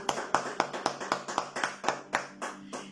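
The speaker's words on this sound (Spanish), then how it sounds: "Dele un aplauso al Señor." Rhythmic clapping from a small group during a church prayer service, about a dozen sharp, evenly spaced claps that are fairly faint and slow slightly toward the end.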